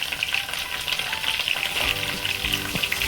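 Onion frying in hot oil with spices such as garam masala, hing, chilli, turmeric and coriander powder gives a loud, continuous sizzle, with a few scraping stirs toward the end.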